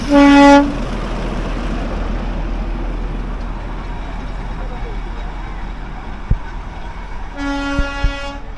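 Darjeeling toy train at Batasia Loop: a loud horn toot opens, a continuous rumbling rail and engine roar follows, then more horn blasts near the end.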